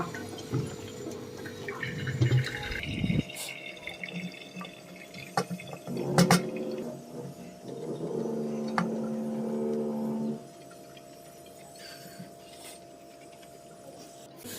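Water drips and trickles from a strainer of cooked raw jackfruit over a low steady hum, with a few clinks of utensils; no one speaks.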